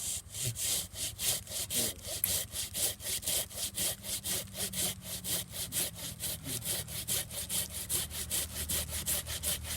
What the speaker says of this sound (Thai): นี่ครับใบเลื่อย เดี๋ยวเทสเลยนะครับ